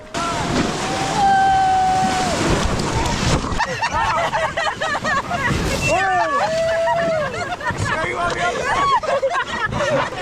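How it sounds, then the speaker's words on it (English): Whitewater river rapids on a rafting trip, a steady roaring rush of water and splashing under loud excited voices, whoops and shouting from the raft. "Just a lot of fun whitewater."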